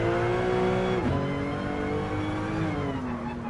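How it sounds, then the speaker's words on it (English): A souped-up Porsche in the racing game GT Sport revs loudly and steadily, its engine note dipping briefly and then holding a sustained drone close up. "This is a souped up Porsche."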